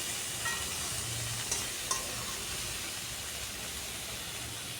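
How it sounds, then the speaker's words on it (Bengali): Potato, eggplant and rohu fish sautéing in a pan give a steady close sizzle and hiss, with a couple of faint utensil taps over the frying and no talk. "খুব ভালো করে কষিয়ে নিয়েছি।"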